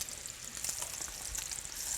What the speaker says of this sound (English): usually you can tell when they're done by when the bubbling starts to slow down a little bit